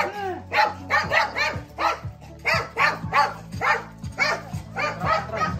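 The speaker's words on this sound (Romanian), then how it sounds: "Rămânem aici să ne latre câinile sau mergem în casă?" Dogs bark repeatedly outside a house in a Romanian village, a steady string of loud, close barks with some whining between them.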